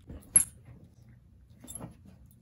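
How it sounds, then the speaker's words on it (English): Two dogs play-fight indoors in their room, giving a couple of brief scuffling bursts with faint yips and jangling tags between quiet pauses. "Doggy fighting ASMR."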